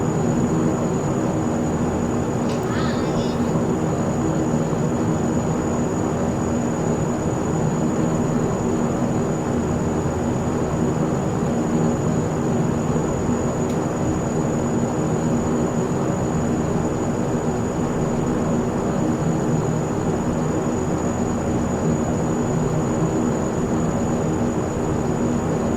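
A Saab 340 turboprop taxis in the X-Plane 11 flight simulator, its engine drone steady and loud with a constant propeller whine running unbroken throughout.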